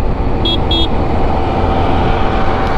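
Steady road roar of highway traffic on the Dhaka–Mymensingh highway, with two short, bright car horn toots close together early on and a continuous wash of passing vehicles.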